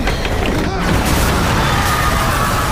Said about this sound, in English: The blast wave from the explosion overturned the platform